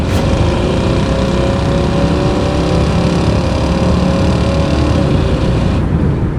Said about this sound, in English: Get a little back pressure there, get a good exhaust note.